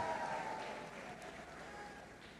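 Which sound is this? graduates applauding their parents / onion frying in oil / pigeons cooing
graduates applauding their parents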